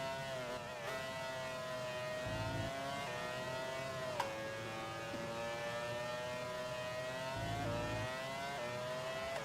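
Formula One cars racing in the Grand Prix 4 video game, a steady high engine whine sweeping up and down through gear changes, with a deeper roar briefly swelling in twice as cars pass close.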